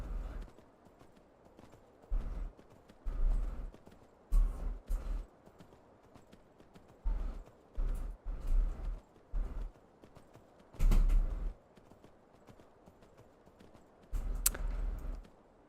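Horse hooves clip-clopping in the Myth of Empires video game: bursts of rhythmic hoofbeats come and go in several separate runs, fairly close and punchy, with quieter gaps between them.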